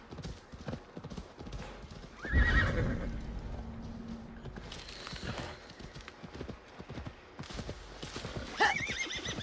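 Horse hooves clip-clopping and a loud whinny from a horse in the video game Assassin's Creed Valhalla, with the neigh rising near the start over steady footfalls and faint ambient game sound.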